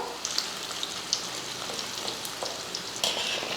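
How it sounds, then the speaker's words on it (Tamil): Paneer deep-frying in hot oil in a kadai gives a steady close crackle with scattered sharp pops and spits, one louder burst near the end. "எண்ணெய் காஞ்சதுமே பன்னீர் வந்து பொரித்து எடுத்துடலாம்."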